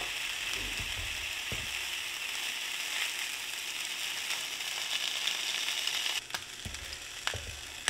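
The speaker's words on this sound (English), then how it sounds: "I'm gonna start by browning up my sausages" Sausages brown in a preheated skillet over medium-high heat, a steady, fairly quiet hiss of frying fat that runs without a break, with a few faint clicks and bumps toward the end.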